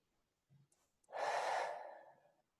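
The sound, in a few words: guided breathing, inhaling and exhaling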